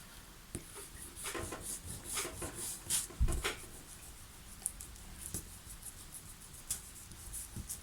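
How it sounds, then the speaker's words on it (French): An eraser rubs out pencil lines on a paper greeting card in a series of quiet, close scrubbing strokes with small taps between them. "on peut malgré tout gommer les traits de crayon"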